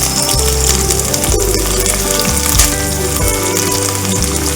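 Onion pieces fry in a pan for a chana dal coconut curry, a loud, steady sizzle with crackling throughout and a few light metallic clinks of stirring, no voices.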